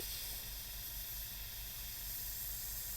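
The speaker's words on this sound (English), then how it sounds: "The compressor is running as we speak." A quiet airbrush compressor runs continuously, a faint, even hiss with a low steady hum and no speech.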